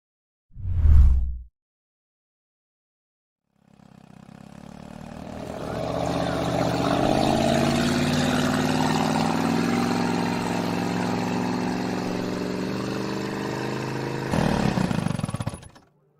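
A boat engine in a video game starts after a short thud, swelling into a steady, loud droning hum that holds for about ten seconds, then ends in a brief louder burst.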